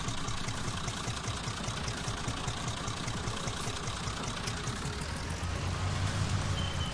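A small tractor idles in Farming Simulator on the Greenwich Valley map. It holds a steady, even engine drone with a rhythmic low chug throughout, and a slight swell near the end.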